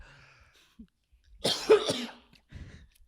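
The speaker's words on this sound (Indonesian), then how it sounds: "kayaknya batuknya serius deh" A harsh, close cough, a couple of rough bursts in quick succession, with quiet stillness before and a softer rasp trailing after.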